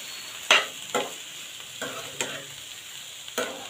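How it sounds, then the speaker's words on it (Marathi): A spoon scrapes and stirs chopped tomatoes into frying onions in a pan for a tomato bhaji, with five or six distinct stirring strokes over a soft, steady sizzle close by. "आता टोमॅटो यामध्ये मिक्स करून घ्यायचे चांगले"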